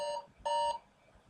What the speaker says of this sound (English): that was my phone creating alarm